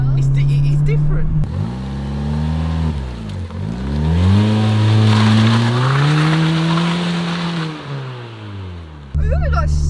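Fiat Punto with a cheap aftermarket exhaust revved up close, deep bassy engine tone climbing and falling through several long sweeps, loud and nearby, with brief voices at the start and end.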